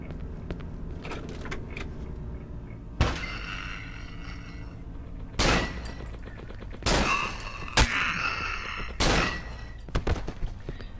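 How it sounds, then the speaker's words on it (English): Gunfire in the horror video game Cry of Fear at a construction site: several loud, sharp gunshots spaced a second or two apart, each with a brief echoing tail, over a low ambient drone. "Need to be careful with my shots, make sure I don't miss."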